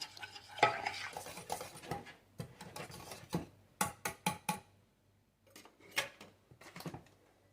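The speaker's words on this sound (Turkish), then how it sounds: "Bir çay kaşığı da tuzu koyarak güzel sosumuzu karıştıralım." A pasta sauce seasoned with black pepper and salt being stirred in a pan, with close, crisp scraping strokes in irregular bursts and short pauses between them.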